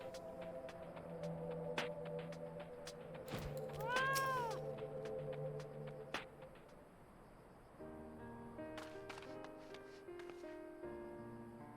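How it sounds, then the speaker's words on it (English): A cat character in the video game Final Fantasy XIV meows amid game music and ambient hum, the cry fairly faint and rising briefly in the middle of a layered soundtrack. "fat cat will take us there."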